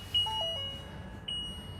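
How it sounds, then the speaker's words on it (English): Seat warning chime on a 2025 Ford-based Winnebago EKKO 22A camper van at startup, a few clear electronic beeps spaced across the moment against a low engine hum. "It's gonna make an alarm because of this chair."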